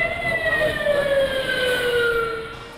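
A fire engine siren wails loud and near as fire trucks arrive at a building after an alarm. The tone glides slowly and steadily over a rumbling engine, with no talking.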